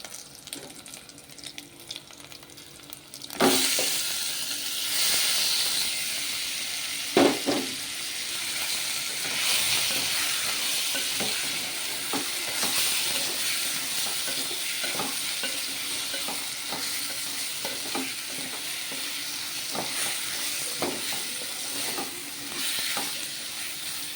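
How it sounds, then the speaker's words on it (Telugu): Marinated chicken pieces with onions frying in hot oil, a steady loud sizzle that continues throughout, broken by occasional stirring scrapes and a louder crackle as pieces go in. "మంచిగా నూనెలో ఉడకాలండి ముక్క"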